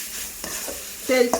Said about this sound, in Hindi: इसको अच्छे से भुनेंगे अभी फास्ट गैस पे